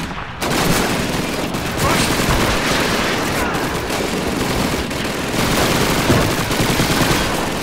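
Submachine gun fire in the World War II shooter Call of Duty 2, during Red Army training: continuous rapid bursts of automatic gunfire, loud and close, running almost the whole time with little pause.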